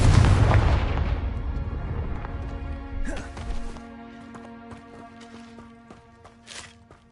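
A loud Confringo spell explosion from Hogwarts Legacy opens with a deep boom that rumbles away slowly. A second, softer blast and a few scattered thuds and crackles follow as it fades.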